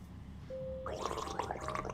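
A person imitates a gargling sound with their voice, a short wet burbling gurgle that starts thinly and then grows into a bubbly, fluttering rattle, close and fairly quiet.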